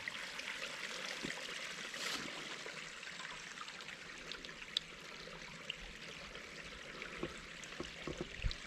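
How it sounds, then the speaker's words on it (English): Creek water trickling and flowing on wooded homestead land, a faint, steady babble with small splashes and drips, heard alone without talk. "Here's where the creek comes through."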